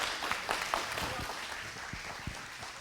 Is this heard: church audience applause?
yes